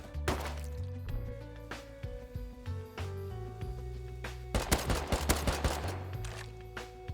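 Gunfire from an MP5 submachine gun in the Rust video game, with scattered single shots and short bursts early on, then a denser volley of rapid shots near the end over a steady game backdrop.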